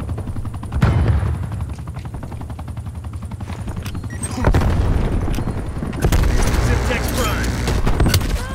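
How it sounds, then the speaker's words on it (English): An attack helicopter in the video game Call of Duty: Black Ops Cold War throbs with a rhythmic rotor chop, loud and close, mixed with bursts of machine-gun fire and booms. Voices are briefly heard. "What's the attack chopper deployment?"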